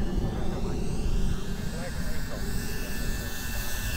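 An Avios KingTwin 1700mm twin-engine RC model airplane makes a slow pass with full flaps, a steady, moderately distant electric motor and propeller drone under wind rumble, with a faint voice in the background.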